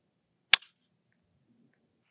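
A precision bolt-action rifle fires a single shot off a barricade: one sharp, brief crack that dies away quickly, with near silence before and after.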